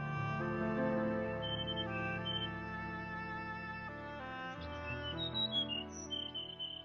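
A little white bird in a Cinderella fairy tale chirps softly, with a few short high tweets rising above a sustained orchestral music bed.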